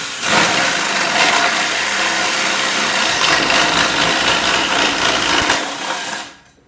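A drill fitted with a Spyder TCT hole saw cuts steadily, a loud, continuous grinding whir held close for several seconds before winding down at the end.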